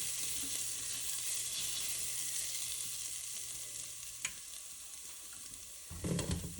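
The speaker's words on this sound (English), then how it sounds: "I'm just gonna cook this garlic in this butter so I don't have raw garlic bits." Garlic sizzles in butter in a pan on a stove, a steady soft frying hiss throughout, with a brief clatter of a utensil stirring near the end.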